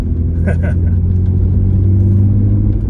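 A Volkswagen Corrado VR6 engine idles with a low, steady rumble up close, and a voice speaks briefly over it near the start.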